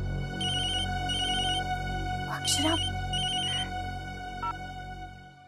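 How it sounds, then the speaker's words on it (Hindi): A phone ringtone rings in repeated bright electronic trills over a steady background hum. A voice calls out once partway through. "आपका फोन बज रहा है।"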